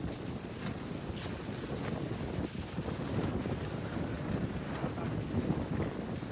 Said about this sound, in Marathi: वारं तर लई आहे आज